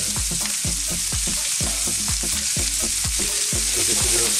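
Sliced onions, garlic and ginger sizzle steadily in a hot pan for sticky pork ribs, with rhythmic scraping strokes of a utensil stirring them, close and loud with no talking.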